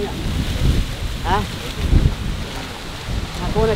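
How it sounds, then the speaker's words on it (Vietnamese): Strong outdoor wind roars and buffets the microphone in uneven gusts, while brief voices come through faintly underneath. "thấy gió rất là to, chắc chuẩn bị mưa hay sao nhở"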